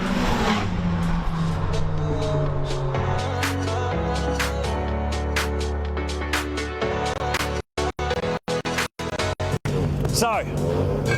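TCR touring race cars at The Bend Motorsport Park, engines roaring and revving past in loud waves with gear-change dips and brief dropouts near the end, commentators talking excitedly over the racing.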